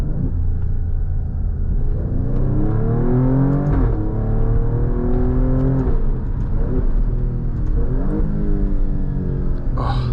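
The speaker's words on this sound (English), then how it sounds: "we have the Ferrari derived V6 under the hood, which produces over 500 horsepower and a crazy amount of torque low end, and it just sounds incredible with this exhaust system too" Alfa Romeo Stelvio Quadrifoglio SUV with its Ferrari-derived V6 of over 500 horsepower, exhaust roaring close and loud inside a tunnel, revs climbing through several upshifts over a steady rumble.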